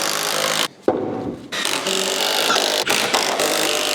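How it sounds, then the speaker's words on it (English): Screws being driven through the corners of a wooden sandbox frame, pulling two boards together: a near, loud, continuous grinding of wood under a drill, with a brief pause and a few short dips in the middle. "push the 2 corners together and screw them together"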